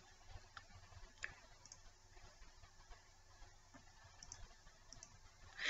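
Sparse, faint computer mouse clicks scattered across a quiet stretch, single soft taps at irregular intervals with no talking.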